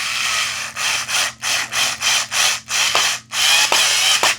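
A screw is tightened while a Eufy Smart Lever Lock C33 is installed, giving a loud series of even rasping turning strokes, about nine in a row, close up and with no talk.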